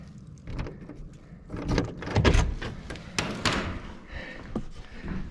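The side door of an office container is unlocked and opened, with jangling keys, a metallic latch and scraping, and heavy thuds from the door close by.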